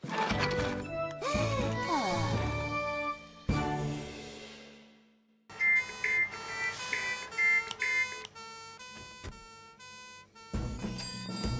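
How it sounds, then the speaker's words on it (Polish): Loud electronic alarm tones blare in repeated bursts with beeping, stepped pitches, stopping and restarting several times, close and clear. "Teraz z tego MP3 leci dźwięk syreny alarmowej."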